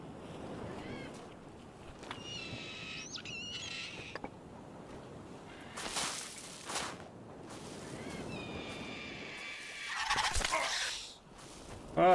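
A bird gobbles repeatedly in the video game Survival: Fountain of Youth, several rapid, warbling turkey-like calls in bursts amid a soft wind and surf background, some calls near and loud, others quieter.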